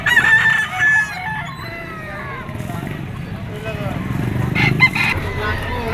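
A sweater gamefowl bull stag rooster crows at a Padre Garcia, Batangas auction market, its call rising clearly at the start over a busy murmur of crowd voices, with other fowl crowing and clucking faintly in the background.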